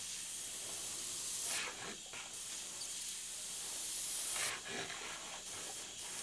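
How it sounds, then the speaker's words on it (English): An airbrush sprays paint in a steady, continuous hiss while flames are laid onto a 1934 coupe, with brief swells in intensity and no talking. "I do love airbrushing."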